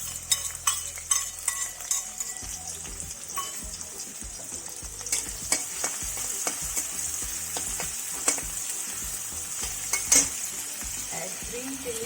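Chopped onions sizzle and crackle as they hit hot vegetable oil in a kadai for a spicy Maharashtrian village-style chicken curry, a steady frying hiss with scattered stirring scrapes and clinks throughout, close and fairly loud.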